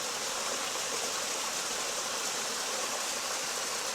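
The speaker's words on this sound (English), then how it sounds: "So when we step into it, we slowly have this river sound come in." Ambient river sound effect in a FoundryVTT tabletop game scene: steady, dense rushing water with a broad hiss, continuous and even throughout, no voices.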